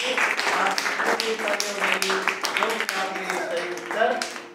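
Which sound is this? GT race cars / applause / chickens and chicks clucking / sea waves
applause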